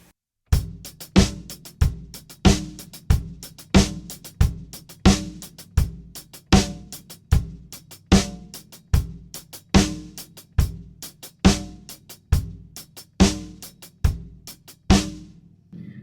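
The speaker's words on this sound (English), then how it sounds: "Playing this pattern on the hi-hat" A steady hi-hat and snare drum pattern of crisp, evenly spaced hits repeating for the full stretch, played alone and close with a consistent beat.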